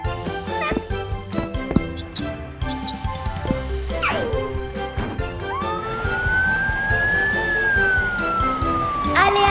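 A cartoon fire truck siren wails in a rising and falling sweep over busy background music and sound effects in a children's animated show about trucks.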